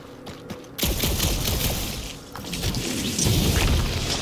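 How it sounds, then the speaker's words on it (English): Plasma shot and lava launcher firing in Marvel's Guardians of the Galaxy video game, a loud booming blast followed by a sustained roaring, crackling rumble with a second swell of fiery noise. "The plasma shot. Lava launcher."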